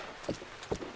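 Horse hooves clip-clop in a video game as the mount follows the main road on its own, two soft hoof strikes spaced about half a second apart over a faint ambient bed.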